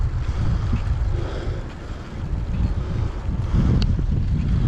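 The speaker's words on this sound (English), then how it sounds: "bit of wind actually" Steady wind buffets the microphone outdoors on a sunny day, a continuous low rumble with gusts swelling and easing throughout, no voices present.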